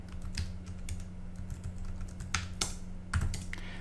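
Rapid, uneven keystrokes on a computer keyboard as a git command is typed, close and fairly quiet, with a few sharper taps standing out.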